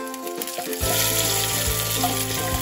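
Mustard seeds, dried red chillies and curry leaves crackle in hot oil as the tempering is poured over a Kottayam-style fish curry, a loud steady sizzle after a quieter start, with no talking.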